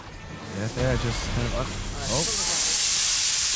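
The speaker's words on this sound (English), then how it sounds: "oh, wow, they're actually being sprayed." Loud hissing spray bursts and keeps going, drowning out the voice of someone commentating during a gaming challenge in which players are being sprayed.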